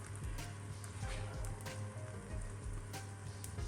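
A msemen flatbread cooks in a pan over low heat, giving a soft, steady sizzle with faint crackles and occasional louder pops, close and quiet.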